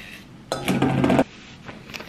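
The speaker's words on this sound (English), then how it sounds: "I'm just gonna spoon it in" Filler for a fake cake is spooned into a bowl, giving one short burst of close scraping and clinking of utensil against the bowl, with quiet before and after.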